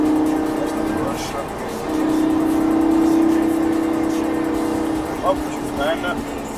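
A Lamborghini Gallardo engine drones steadily on a race track, a sustained in-car hum that swells and eases with throttle changes as an instructor talks throughout.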